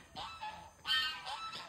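Geese honk repeatedly along a hill trail in Sungai Petani, several loud nasal calls coming in irregular bursts at close range.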